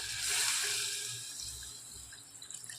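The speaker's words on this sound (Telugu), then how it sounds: "ఇప్పుడు నీళ్ళు వేసుకుందాం" Water poured into a pot of cooking chicken makes a close hissing, splashing rush that swells early and then tapers off, with no talk over it.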